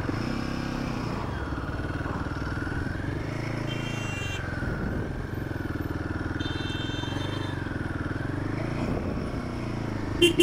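Royal Enfield Himalayan 450 motorcycle riding along, a steady engine drone with a low rumble and a rising and falling whine, heard up close and continuous throughout.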